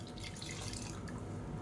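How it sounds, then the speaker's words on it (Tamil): Tap water runs and trickles into a mixer grinder jar as it is rinsed after grinding roasted gram chutney, a steady close splashing flow that fills the short stretch without any talk. "இப்போ மிக்ஸியை அலசிட்டு தண்ணி சேர்த்துக்கலாம்."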